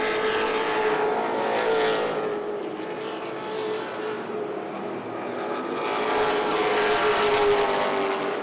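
Late model race cars roar around Irwindale Speedway in a loud, continuous droning blur of engines that swells and fades slightly as they run side by side.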